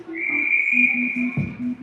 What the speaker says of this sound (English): No idea why they blew the whistle.